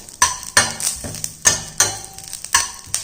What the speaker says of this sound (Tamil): இதை லைட்டாக வதக்கிடுவோம்.